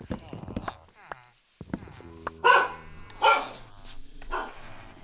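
A dog barks indoors in several sharp bursts, loud and close, with yips between them and a person talking over it at times.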